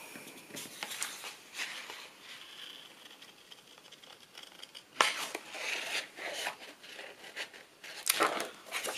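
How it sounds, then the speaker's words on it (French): Small scissors snip paper in quiet, close crisp cuts, with sparse clicks and two sharper snips standing out, alongside light paper rustling. "Je prends mon petit ciseau."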